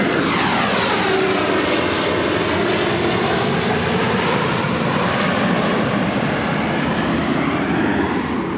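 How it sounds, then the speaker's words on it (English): A fixed-wing airplane passes low overhead near an airport, a loud, steady broadband engine roar filling the whole stretch with no pauses and no talk. "Just wait till the plane goes over."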